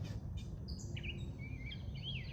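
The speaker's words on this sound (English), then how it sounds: "these birds are going crazy." Several birds chirp and call outdoors, with bright overlapping tweets and short whistled phrases standing out over a steady low background rumble.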